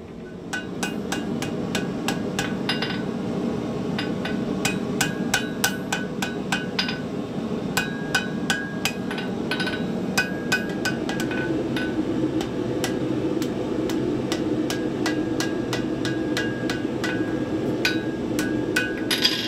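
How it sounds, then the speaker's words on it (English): Hand hammer forging ball ends on metal pieces for a picture frame stand, sharp ringing blows struck in a fast, steady rhythm throughout, loud and close over a constant shop hum. "Forging the ball ends on these two pieces"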